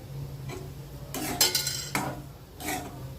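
A spoon scrapes and clinks against a pan of gram flour roasting in ghee over a low flame, in a few separate bursts, with a low steady hum underneath and quiet gaps between strokes.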